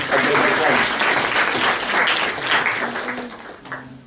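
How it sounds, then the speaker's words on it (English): Audience applause at a Model United Nations opening ceremony, a dense, loud wash of clapping that holds steady for several seconds then thins out and fades, with a voice briefly audible near the end. "Let's applaud"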